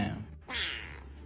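A single drawn-out meow, close and fairly soft, after a brief low murmur; it may be a person imitating a cat.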